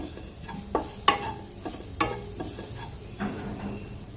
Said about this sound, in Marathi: अर्धा चमचा हळद ती पण छान अशी परतवून घेऊया